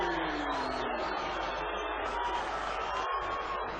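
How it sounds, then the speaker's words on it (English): An arena crowd at a boxing match roars and jeers steadily as a fighter named Barkley is introduced, a dense wall of voices with no clear gaps. "the crowd are reacting to it"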